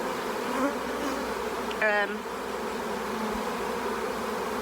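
A steady, close insect buzz of many honeybees droning continuously around a hive, with a brief higher-pitched whine rising and falling partway through.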